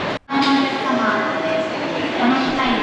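Underground platform at Omiya railway station with a train present: steady loud rumbling and hum of rail noise filling the space, cut by a brief dropout near the start, continuing evenly to the end.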